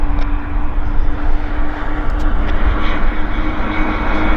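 A Q400 turboprop arriving at Vancouver YVR airport gives a loud, steady low rumble that holds throughout without a break.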